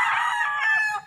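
A rooster in a backyard chicken coop crows once, a loud, close, harmonic call lasting about a second and trailing off at the end, with no talk over it.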